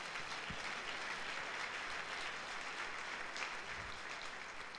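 Church congregation applauding during a Sunday service, a steady wash of clapping from many hands that holds at an even level throughout, fairly faint and somewhat distant.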